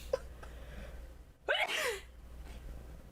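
A single loud sneeze bursts out after a short intake of breath, close up, with a faint murmur of background noise around it.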